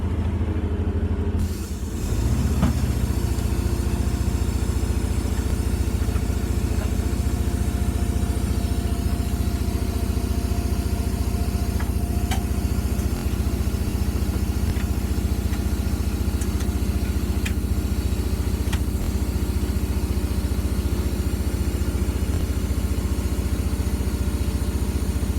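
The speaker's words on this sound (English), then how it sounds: "I had to use a forklift" A forklift engine runs steadily in a workshop while lifting a 2005 Volkswagen Touareg to drop its engine and transmission, a loud continuous idle-like drone that starts after a short pause and holds for the whole stretch.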